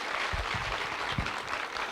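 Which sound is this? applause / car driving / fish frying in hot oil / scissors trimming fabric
applause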